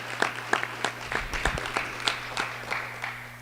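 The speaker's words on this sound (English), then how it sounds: "can we just give her a round of applause?" A modest round of applause at a school board meeting, scattered claps rising and tapering over a few seconds with a steady low hum behind, fairly faint and distant.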